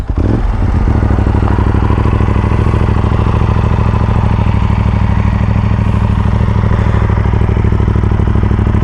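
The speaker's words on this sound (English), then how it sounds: "I'll show the exhaust note to you guys." A modified Aprilia RS457 sport motorcycle with a full-system exhaust and no dB killer idles loudly and steadily up close, its deep, throaty exhaust rumble continuous with rapid mechanical pulsing throughout.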